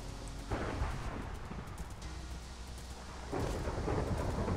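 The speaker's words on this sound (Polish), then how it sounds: "Ale pioruny strzelają." Thunder rumbles during a rainstorm in the video game Minecraft, a deep, continuous roll under steady rain that grows louder and heavier toward the end, with no voices.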